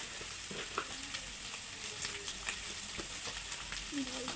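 Spices stirred in a hot frying pan make a soft, continuous sizzle broken by gentle scraping and tapping of a spoon, fairly quiet and close.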